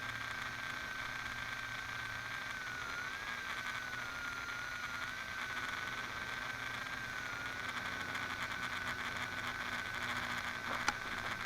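Small quadcopter drone motors, either a Tarantula X6 or Syma X8C, give a constant high whine with a steady buzzing drone that holds unchanged throughout, no one speaking.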